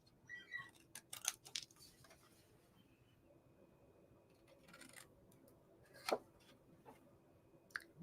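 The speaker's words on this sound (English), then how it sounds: "you want to have just a nice sharp pair of scissors here" Sharp scissors trim a paper stamp, giving a few faint, close snips and crisp cuts scattered among quiet pauses and light handling noise.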